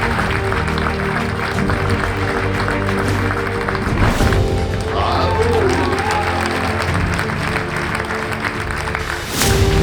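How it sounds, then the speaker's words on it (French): A large audience at an award ceremony for the European Stars 2025 in Guadeloupe applauds steadily for about ten seconds, dense clapping and some cheering that ends abruptly, close and loud. "je vous demande un bel applaudissement pour notre section Europe à la région Guadeloupe"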